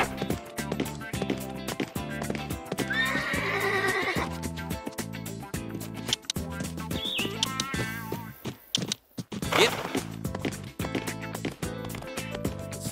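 A horse in the riding-stable video game My Riding Stables: Life with Horses whinnies loudly over continuous game music, with a second neigh later and some soft hoof thuds between.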